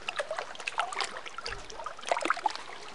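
Water trickling in a train-themed video game, a soft, continuous dribbling stream with faint splashy detail, heard alone at moderate level.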